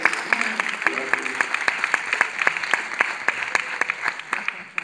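Audience applause at a live show in Madrid, a steady patter of many clapping hands with sharp individual claps standing out, sustained throughout at moderate loudness.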